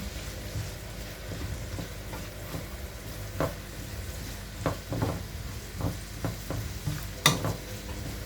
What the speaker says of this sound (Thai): ผัดให้มันหอมผัดไปเรื่อยๆเรื่อยๆเลยเพื่อนๆจ้ะ